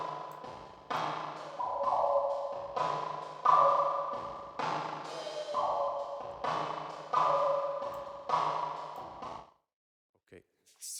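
A CA2600 synthesizer patch with the VCF fed into reverb plays a series of repeated swelling tones, each note ringing out with a reverberant tail in a steady rhythm before fading to near silence.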